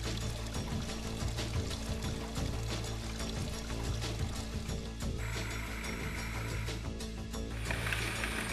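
Water runs and pours steadily while an INALSA food processor is rinsed under a tap, a continuous close splashing wash with a brighter gush toward the end.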